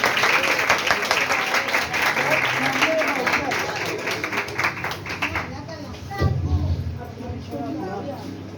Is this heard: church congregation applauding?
yes